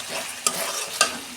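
Spice paste frying in oil in a Bengali fish curry, a soft continuous sizzle broken by two quick spatula scrapes against the pan, faint and close.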